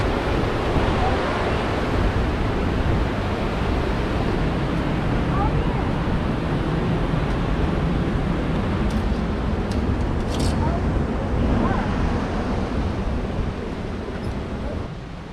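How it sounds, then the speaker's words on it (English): Water pouring over a small diversion dam partly filled by a sandbar, a steady loud broadband rush like surf that continues unbroken with a few faint clicks and wind on the microphone. "So to see water flowing over the top of this thing, it's pretty crazy."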